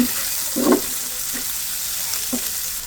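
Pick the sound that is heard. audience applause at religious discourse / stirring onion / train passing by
stirring onion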